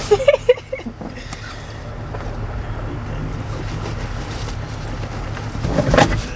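Heavy metal chains clank and rattle up close, with jangling bursts early on over a low rumbling background, swelling louder near the end.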